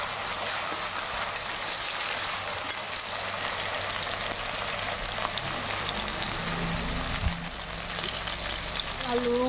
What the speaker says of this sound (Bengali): কড়াইতে একটু তেলে একটু লবণ দিয়ে রাখলাম। আলুটা ছেড়ে দিচ্ছি।